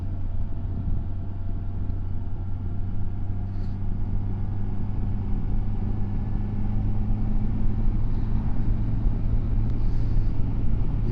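A Kawasaki Versys 1000 SE motorcycle engine drones steadily and smoothly as power goes on, a low, even hum blended with rushing wind, recorded close from the rider's position, with no talking.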